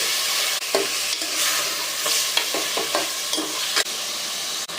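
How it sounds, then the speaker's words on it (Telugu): Half a kilo of washed mutton pieces fries in a pan, a loud continuous sizzle broken by repeated scraping stirs of a spoon against the pan. "కడిగి పెట్టుకున్న హాఫ్ కేజీ మటన్ ఈ మటన్ అంతా ఒక రెండు నిమిషాల వరకు వేయించుకోవాలి"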